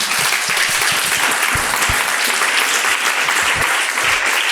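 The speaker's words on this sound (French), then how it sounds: "Je crois qu'on peut t'applaudir encore." A conference audience claps steadily and loudly, a dense wash of applause filling the room for several seconds with no break.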